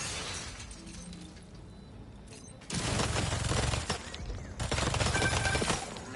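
Gunfire erupts in Marvel's Spider-Man 2 as turrets are taken out, with two loud, sustained bursts of rapid shots and crashing impacts separated by a quieter stretch of game ambience.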